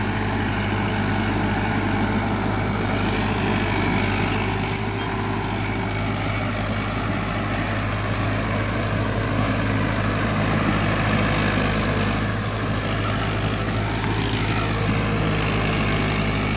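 A Mahindra Arjun 555 DI tractor pulling a three-bottom plough through hard ground, its diesel engine a loud, steady low-pitched drone with little variation throughout.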